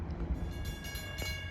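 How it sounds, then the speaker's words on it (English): Train 76 approaching eastbound on the Montauk Branch east of Babylon, a steady outdoor rumble of a passenger train drawing nearer with faint rail clatter and a soft tonal horn hint, no talking. "Approaching eastbound at 4:06 is train 76"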